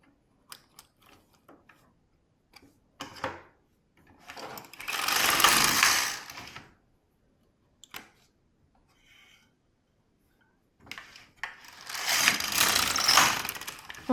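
An LK150 knitting machine carriage knitting short rows, two long rasping sweeps across the needle bed, separated by quiet stretches with small clicks and brief handling noises.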